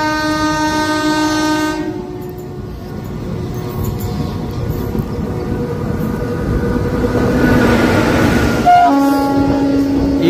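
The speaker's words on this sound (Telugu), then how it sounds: "సామర్లకోట జంక్షన్ అవుటర్లో మనకి ఇంకొక క్రాసింగ్ పూరి తిరుపతి ఎక్స్ప్రెస్" The Puri–Tirupati Express passes near Samalkot Junction outer, its horn blaring loud and sustained at the start, then a rushing rumble of wagons with a second short horn blast near the end.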